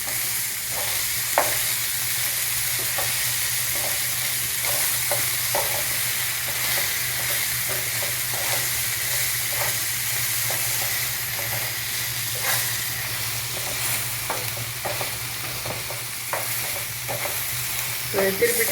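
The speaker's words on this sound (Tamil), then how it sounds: "போட்டுட்டு மெதுவாக இப்படி திருப்பி விடணும், காய் ரொம்ப உடையாத மாதிரி." Colocasia pieces frying with chili powder in a pan, a continuous bright sizzle under repeated soft scrapes and clicks as the spoon gently turns them, steady and close throughout with no speech.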